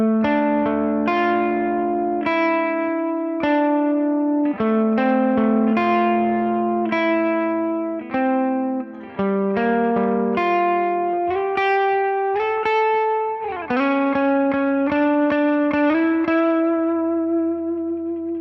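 Electric guitar played through Tone X amp models straight into Ableton as a reference tone, heard alone as sustained, overlapping notes and chords with a lightly processed, slightly driven character.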